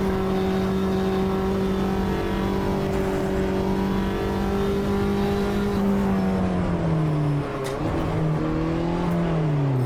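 Race cars in the racing video game Automobilista 2, a loud engine drone holding steady then dipping and climbing again as the car shifts and accelerates, with other cars close by and no talk.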